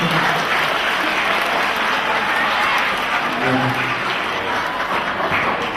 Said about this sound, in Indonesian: Saya minta aplaus untuk semua motivator